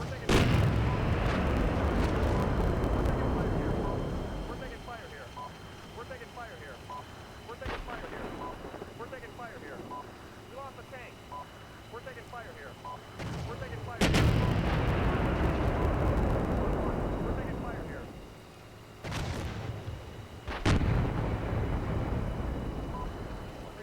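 Mortar fire in the tank simulator Steel Beasts Pro, where several deep booming blasts and rumbling impacts rise over a low, continuous engine drone while someone talks.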